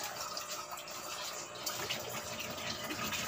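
Running water pours steadily while a koi tank's water is being changed, a continuous broadband rush with no talk over it.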